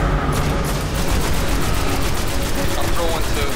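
Dense, continuous gunfire and blasts from a grenade fight in the shooter game Destiny, loud and sustained throughout, with a player's voice talking over the din.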